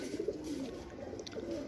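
Paired Punjabi pigeons cooing softly and continuously in a low murmur, a steady warbling drone with faint background noise and no talk.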